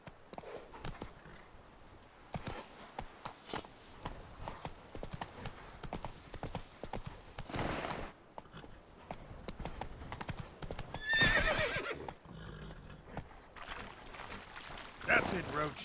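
Roach the horse from The Witcher 3 game gallops with steady clip-clop hoofbeats and lets out a couple of loud neighs, over game ambience with occasional talk.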